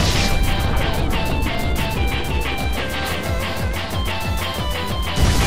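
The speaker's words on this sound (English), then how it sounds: "A smashing blow that dealt some massive damage." A heavy attack lands in the Pokémon Battle Revolution video game, a dense crashing impact over loud, busy battle music and effects, with rapid rhythmic pulses running throughout.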